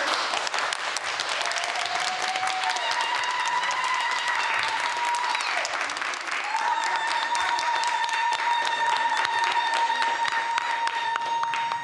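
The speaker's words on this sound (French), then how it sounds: "je voudrais qu'on l'applaudisse très très fort." Sustained applause from an audience honouring a graduating doctor, dense clapping that stays steady and moderately loud for the whole stretch, with a few tonal sounds running beneath.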